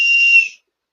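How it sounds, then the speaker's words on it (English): A lanyard whistle gives one short, shrill, steady blast of about half a second, loud and close, then cuts off to silence. "put it to your ear, and blow the whistle on it"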